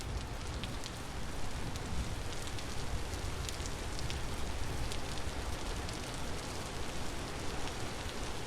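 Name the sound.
rain falling in the video game Vintage Story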